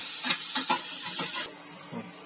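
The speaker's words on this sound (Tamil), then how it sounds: "தக்காளி வந்து இருக்கிறதே தெரியாத அளவுக்கு நல்லா குழு குழுன்னு வதங்கி வரணும் அது வரைக்கும் நல்லா வதக்கணும்" Tomatoes and onions sauté in a pan for Tirunelveli-style kuska, with a soft sizzle and a few light stirring scrapes that fade to quiet.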